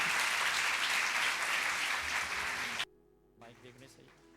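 A church congregation applauds loudly and steadily, then the clapping cuts off abruptly and a quieter room with faint sounds follows.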